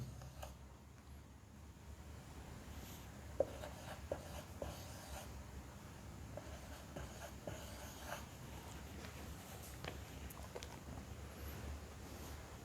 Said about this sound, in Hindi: बाकी की जितनी भी एलोकेशन है हमारी उनको हम यहां ऐसे लिख लेंगे।